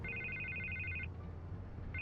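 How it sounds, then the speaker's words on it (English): Telephone ringing in the Batman Telltale video game, a steady electronic trill that rings for about a second, falls silent, then starts again near the end over a low ambient hum. "I can't get the phone to stop ringing"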